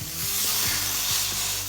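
A grilled Reuben sandwich sizzles steadily on a hot grill, with a few scraping, shuffling knocks as it is flipped over mid-sizzle; no talking.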